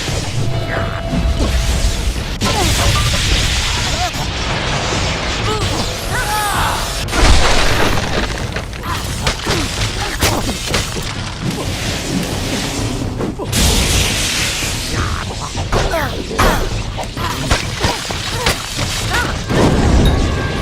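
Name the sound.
explosion in the video game Kingdoms of Amalur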